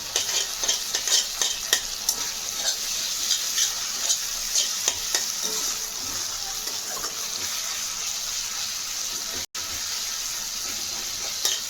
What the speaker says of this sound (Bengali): দিয়ে বেশ এটা একটু ভাজা ভাজা হবে।